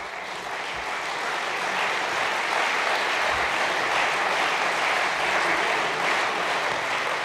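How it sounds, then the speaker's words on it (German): Sustained audience applause at a New Year's reception speech, a dense steady roar of clapping from a large crowd that swells slightly and holds at full loudness throughout, with no talk over it. "Applaus"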